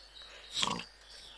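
A single short pig grunt in the video game Survival Ant Farm, faint and brief, over a quiet background hum.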